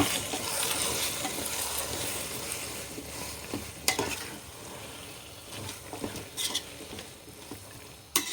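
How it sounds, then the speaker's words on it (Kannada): Gongura (pundi soppu) chutney ingredients are stirred and mixed in a pan, making a continuous soft scraping and sizzling texture with scattered sharp utensil clicks against the vessel. "ಇದನ್ನೆಲ್ಲ ಇವಾಗ ಚೆನ್ನಾಗಿ ಮಿಕ್ಸ್ ಮಾಡ್ಕೊಳ್ತಾ ಇದ್ದೀನಿ"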